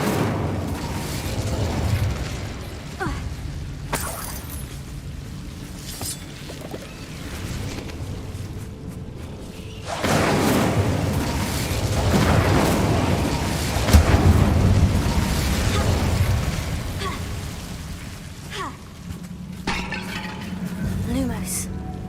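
Incendio fire spell blasts in the Hogwarts Legacy video game, loud rumbling booms and whooshing bursts with mechanical game sounds over about twenty seconds, a voice speaking in places.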